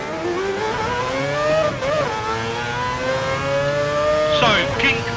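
Mazda 787B race car in GT Sport at Le Mans, its high-pitched rotary engine revving steadily with a rising whine, then dipping and climbing again on a downshift near the end, loud and continuous.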